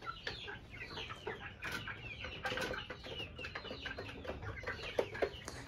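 Peruvian laying hens clucking in a busy chorus, overlapping calls and short squawks continuing throughout, fairly close and steady with no voices.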